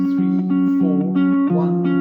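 A guitar plays a fingerpicked pattern slowly, with plucked notes over a repeating two-note bass figure. The tone is close and even, with no talk.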